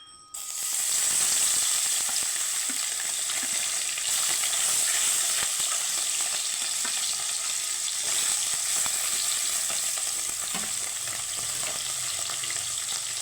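Tengra fish sizzles steadily in a small amount of hot oil in a pan, a continuous bright frying hiss with occasional crackles and light scraping, close and loud from start to finish with no talk.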